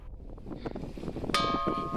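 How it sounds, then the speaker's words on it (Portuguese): Basalt rock struck by hand gives a single bright metallic, bell-like ring that sustains after the hit, following a stretch of wind noise outdoors. "Ao serem tocadas com o vigor de uma batida ou pancada, ressoam ao som metálico de um sino."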